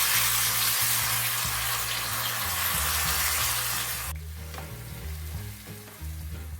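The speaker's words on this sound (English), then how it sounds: "now our oil is hot, so it's a good time to add in the chopped onions, tomatoes and green chilies." Chopped onions, tomatoes and green chilies dropped into hot oil for baingan bharta: a loud, hissing sizzle that drops sharply partway through and continues quieter with stirring, no talk.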